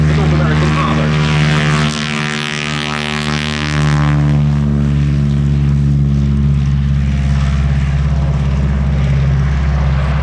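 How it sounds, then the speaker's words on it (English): A North American Harvard propeller aircraft drones loudly and steadily at the East Kirkby Airshow in 2019, its rich, buzzing engine note filling the scene while a commentator's voice speaks over it. "this aircraft was the end result, the North American Harvard."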